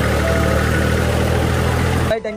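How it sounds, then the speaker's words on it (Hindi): A diesel tractor engine idles close by with a loud, steady low rumble and even vibration, cutting off abruptly near the end. "रोहित भाई कभी डीजल नहीं रखता इस ट्रैक्टर में,"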